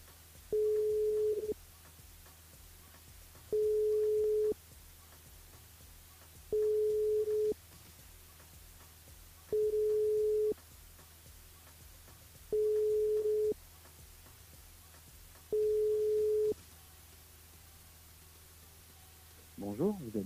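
Six evenly spaced ringback tones, each about a second long with roughly two-second gaps, sound during a French radio call-in broadcast over a faint background hum, with a brief noise at the end.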